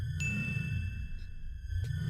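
A bright notification bell dings twice, clear ringing chimes spaced about a second and a half apart over a low steady rumble.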